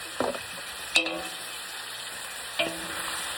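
Ingredients for pansit, including fish ball, liempo, liver, cabbage and snow peas, being stirred in a large wok, with a few distinct scraping clanks of the spatula over a steady low sizzle.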